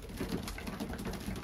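Racing pigeons, old birds and yearlings, coo softly and steadily in a loft, low murmuring calls close by and faint, without talk.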